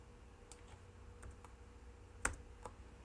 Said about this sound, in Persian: 40 رو تایپ میکنم، اینتر میزنم